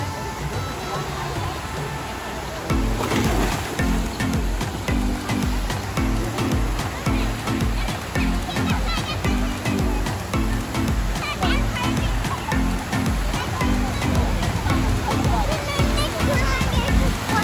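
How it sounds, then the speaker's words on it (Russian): An artificial waterfall at a Turkish water park gives off a steady roar of rushing water, partly buried under someone talking over it throughout. "А вот здесь, друзья, вы видите искусственный водопад"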